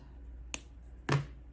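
Two sharp, brief snips of scissors cutting crochet yarn while finishing an amigurumi turtle, close and quiet with a short pause between them and no talking.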